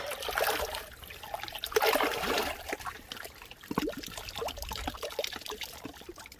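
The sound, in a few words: water trickling in a natural hot spring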